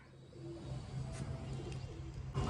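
Large pigeons coo in low, soft, repeated murmurs close by, with a faint chirp and light rustling toward the end.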